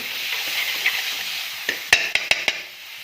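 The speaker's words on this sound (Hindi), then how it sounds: "अब मैं इसमें दाल को फ्राई कर दूँगी।" Lentils fry in a tomato and onion paste under a soft steady sizzle, then a spoon scrapes and taps the pot four times in quick succession near the end.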